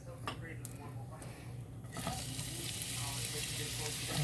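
Oil heating in a cast iron skillet for sautéing onions breaks into a soft, steady sizzle partway through, quiet and close, with faint background noises before it builds.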